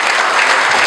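Audience applause at a question-and-answer session with top earners, a steady dense wash of many hands clapping together, loud and close, filling the whole brief moment without a break.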